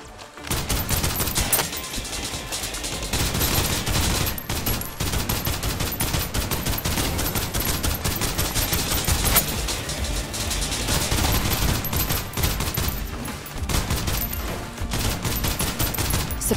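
Suppressive gunfire in the sci-fi shooter Snowbreak rattles on in dense, rapid bursts for the whole stretch, loud and close, with almost no pause between volleys.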